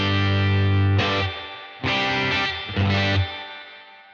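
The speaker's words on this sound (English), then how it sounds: "First thing I notice, a lot of reverb and a lot of drive, and not a lot of output" An electric guitar plays through a Universal Audio Dream 65 reverb pedal set to heavy reverb and drive, with a Greenback speaker. Three distorted chord strikes each ring out with thick, washy reverb, separated by short gaps.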